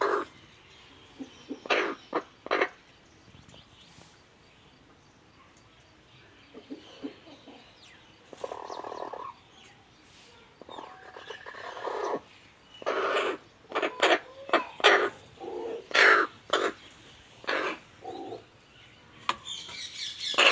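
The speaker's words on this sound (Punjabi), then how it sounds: "ਜਦੋਂ ਮੁਰਗੀ ਕੁੜਕੀ ਹੁੰਦੀ ਉਦੋਂ ਇਦਾਂ ਦੀ ਆਵਾਜ਼ ਕੱਢਦੀ ਆ" A broody hen makes repeated low clucks and sharper calls, irregular and close, with some chirpy bird sounds mixed in and no talking.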